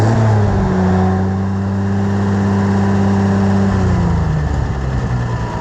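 An Oliver 770 tractor engine runs after a carburetor install, a loud close steady mid-pitched drone with a slight change in pitch partway through, heard alone with no talk.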